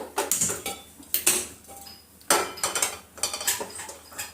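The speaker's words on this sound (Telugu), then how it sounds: "ఇప్పుడు ఒక గిన్నె పెట్టుకుందాము" A cooking pot set down on a kitchen stove while making mutton curry, with several sharp metallic clanks and clatters spread across a few seconds, close and fairly loud, no talking.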